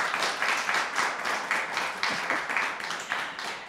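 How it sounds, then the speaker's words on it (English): A small group claps together after a child reads a poem at an Alzheimer's services gathering in the East Bay, with rhythmic, fairly soft claps repeating steadily. "Great, let's clap."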